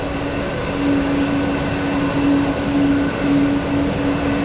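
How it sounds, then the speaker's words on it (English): A fully loaded Air India Boeing 777-200LR rolls for takeoff on runway 28 at San Francisco International Airport, a loud, sustained jet engine roar with a steady droning hum, heard from nearby without talk. "So we have Air India heading to the 28, leaving fully loaded."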